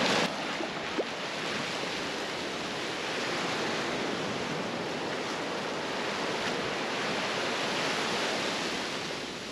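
Ocean surf at a sandy beach, a broad continuous wash of breaking waves with a steady hiss and rumble and some wind on the microphone, with no speech over it.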